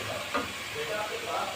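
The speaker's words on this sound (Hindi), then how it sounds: "हमें 5 से 6 मिनट हो गए हैं मसाला भूनते हुए।" Spice masala frying in oil for a paya-style bone curry, a steady close sizzle and hiss with faint stirring, a quiet voice briefly audible underneath.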